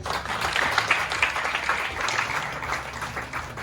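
Audience applause at a merit certificate ceremony honouring a named recipient, a moderate, even patter of many hands clapping for several seconds with faint background murmur.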